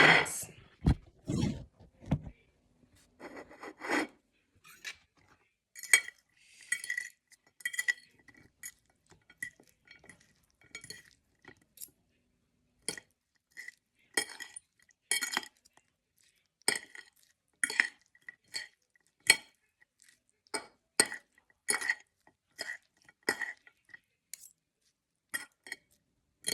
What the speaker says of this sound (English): after adding the tomatoes and onions, we shall mix.